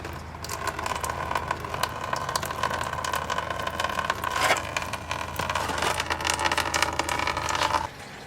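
Engine coolant drains from the radiator petcock of a 2000 Chrysler 300M into a catch pan, a steady trickling, splashing flow that runs without break for several seconds and then stops abruptly near the end.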